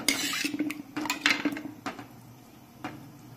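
A spoon scrapes and clinks against a bowl while besan batter is mixed with turmeric and salt, with several quick metallic taps up close that thin out toward the end.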